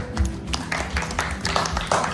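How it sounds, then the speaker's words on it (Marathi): Light, steady clapping from a small crowd at a class reunion gathering, a continuous patter of hands that lasts the full stretch, with faint voices underneath. "टाळ्या"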